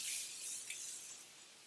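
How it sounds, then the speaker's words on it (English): A soft, close hiss of a fine makeup setting spray mist, quiet and brief, fading gently toward the end. "So I'm going to spray."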